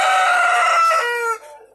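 A rooster crows loudly and close by in a backyard garden, one long strained call lasting over a second before tapering into quiet.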